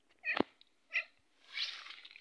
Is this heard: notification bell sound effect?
no